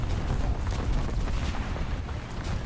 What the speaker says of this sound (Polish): Był oczywisty strzał.